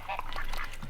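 Ducks quack on a farm, several overlapping nasal calls in quick succession, close and fairly loud, filling the whole short moment.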